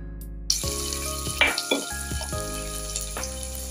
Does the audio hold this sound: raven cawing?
no